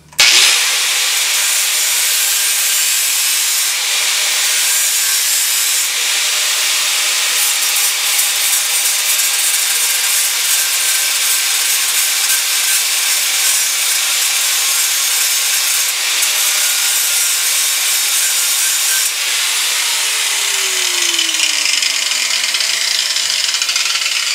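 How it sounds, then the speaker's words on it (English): An angle grinder grinds excess weld off a BM 250 trials motorcycle, giving a loud, steady, harsh abrasive whine that runs continuously for over twenty seconds with slight changes in pitch as the pressure varies. "So we'll grind this off, and as usual with this type of thing, do it a little bit at a time"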